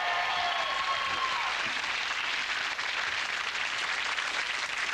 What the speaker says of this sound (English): Give him a big cheer, will you, please?